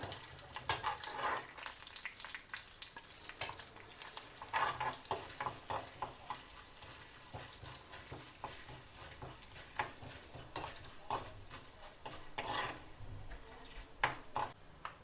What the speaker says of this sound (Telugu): ఈ కొంచెం వేగనిచ్చి ఎండుమిరపకాయలు వేసుకున్నాము